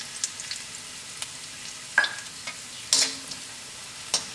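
Pepper powder and golden onions fry in oil for a Kerala-style vegetable stew, a low steady sizzle broken by a few sharp spoon clicks and scrapes against the pan, close by with no one speaking.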